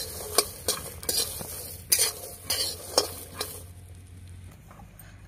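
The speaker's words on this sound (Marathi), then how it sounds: "चला तर आता आपण पावटा भाजून घेऊया।" Pavta beans dry-roasting in a kadhai over a wood-fired stove, stirred with repeated scraping strokes, a soft crackling patter beneath that fades in the last second.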